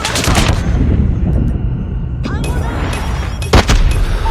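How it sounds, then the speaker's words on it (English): A Predator missile strike in Call of Duty: MW3, heavy booming blast rumble amid ongoing gunfire and battle noise, with a sharp crack near the end. "Friendly Predator missile."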